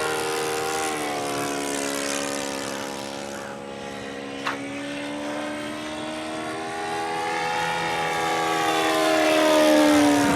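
Engine and propeller of a Goldberg Super Chipmunk RC airplane, an OS 91 Surpass II engine with a 15x6 two-bladed prop, buzzing steadily, pitch sliding down then rising again as it passes nearby.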